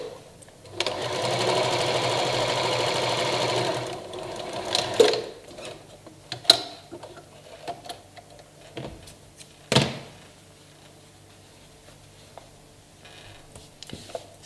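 A sewing machine joins fabric strips for a slanted strip bag, running steadily for about three seconds before falling silent, followed by scattered clicks and handling knocks.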